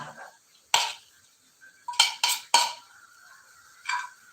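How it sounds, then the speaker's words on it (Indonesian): Grated coconut being stirred into cake batter for kue rangi with a spoon, heard as several sharp clinks and scrapes against a bowl separated by quiet pauses. "Kita aduk-aduk aja."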